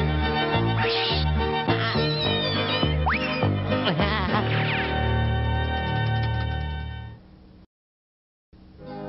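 A cat meows a few times amid loud, busy cartoon music with bouncy sound effects, ending in a short silence.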